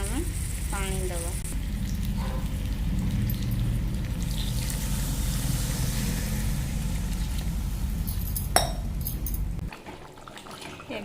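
Egg curry simmering in a pan as water is poured in, a steady loud sizzle and bubbling that runs evenly, with a brief sharp clink near the end before the cooking noise drops away.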